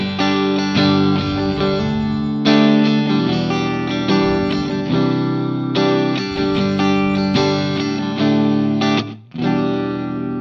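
Electric guitar strummed in rhythmic chord patterns through an impulse response cabinet simulation, a loud distorted tone with sharp attacks and short pauses between phrases.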